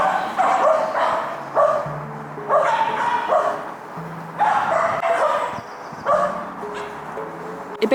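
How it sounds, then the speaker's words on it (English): A dog barks in several short bursts at irregular intervals, fairly close and loud, with brief quiet gaps between. "That's my dog now, who's joining in."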